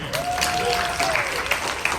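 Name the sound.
audience applause at San Diego Comic-Con panel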